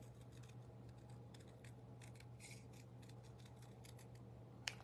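Scissors trim a stamped paper piece for a craft card, giving a string of faint, crisp snipping cuts close by over a low steady hum, ending with a couple of sharper snips.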